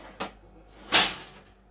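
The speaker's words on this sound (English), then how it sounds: "Shut the door, and it continues." The door of a Ninja 10-in-1 air fryer oven is shut during a fish and chips cook, giving a light click followed by a louder close thud, near and alone.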